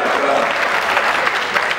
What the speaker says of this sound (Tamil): சகோதரர் இளையராஜ் அவர்கள் வந்து ரசிகர்களில் ஒருவராக கைத்தட்டி